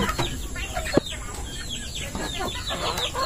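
Chickens clucking and chattering close by in a busy farmyard, with a sharp knock partway through and steady background noise.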